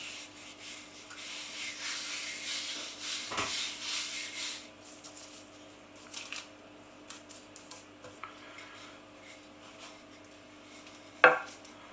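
Floured rolling pin rubbing and rolling over homemade cracker dough of flour, water and oil, a soft scraping swish that fades into scattered light taps and one sharp knock near the end.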